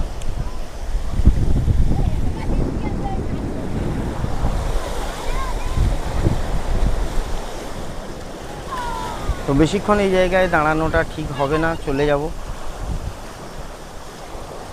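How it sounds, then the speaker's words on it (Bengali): Large waves surge and crash against a river embankment during a deep depression in the monsoon, rolling as a loud, continuous roar mixed with gusty wind noise, while someone speaks over the surf in the second half. "দেখো কত বড় ঢেউ এসে বাঁধে কত জোরে আছাড় দিচ্ছে"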